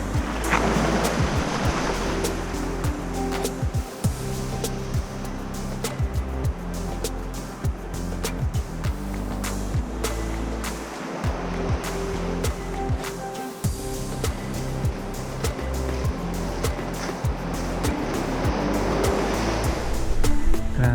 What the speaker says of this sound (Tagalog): Ang laki-laki ng dagat.